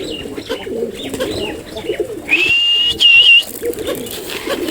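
Jalali pigeons coo near their loft, soft repeated calls in the background, broken by a loud sustained whistle of about two seconds close by.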